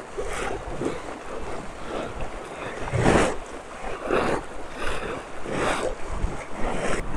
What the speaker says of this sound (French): Regardez comme l'eau monte.